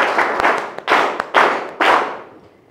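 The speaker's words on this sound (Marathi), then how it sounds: "टाळ्या झाल्याच पाहिजे." Classroom students clap together in several bursts of applause, each swelling and fading over a couple of seconds, fairly loud and close, with no talking.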